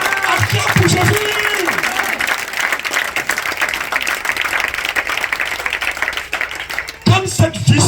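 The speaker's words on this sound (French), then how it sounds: "Acclame pour Jésus." A church congregation applauds and acclaims for Jesus: dense, loud, sustained clapping and cheering fills the whole stretch, with a preacher's voice heard over it at the start and again near the end.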